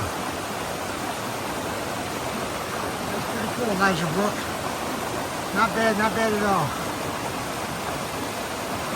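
Rushing water from a waterfall pouring through a rocky chute on Eliza Brook, a constant broadband roar close by, with someone talking over it midway.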